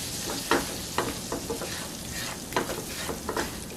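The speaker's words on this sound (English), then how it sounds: "I'm gonna come and add my flour. And we're gonna cook it with the butter" Flour cooks in melted butter in a pan, giving a steady soft sizzle broken by repeated scraping strokes of a stirring utensil, close up with no talking.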